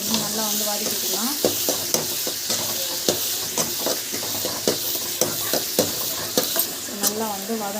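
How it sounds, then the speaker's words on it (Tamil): Onion, garlic and curry leaves sauté in a pan with a constant loud sizzle, broken by regular scraping and clinking strokes of a stirring spoon against the metal. "கருவேப்பிலை பூண்டு வெங்காயம் இன்னொன்று வந்து ஆட் பண்ணி நல்லா வந்து வதக்கிக்கலாம்."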